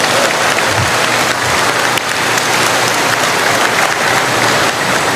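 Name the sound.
long round of applause from the audience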